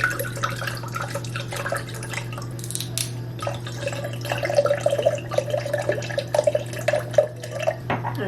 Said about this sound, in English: we'll pour equal parts of the sweet and sour and the Sprite over it